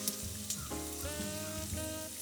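Onions sautéing in a pan until soft and golden give a steady, close sizzle and crackle that runs the whole time, alone with no voices.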